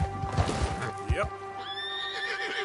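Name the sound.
horse neighing and hooves in a video game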